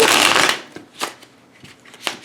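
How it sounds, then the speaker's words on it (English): Tarot cards being shuffled by hand: one long riffling burst followed by a few shorter, softer shuffles, close and clear with no talking. "Give it a few shuffles."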